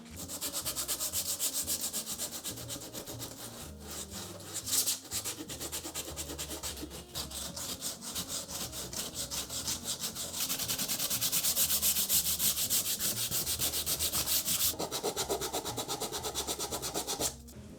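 Rough wood is sanded by hand with 80 grit sandpaper in rapid back-and-forth strokes, a close, steady scratchy rasp that swells louder in the second half.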